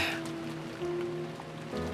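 Rain falling in the Umineko visual novel game, a steady soft hiss of rainfall running throughout beneath a low sustained musical tone, with no voices.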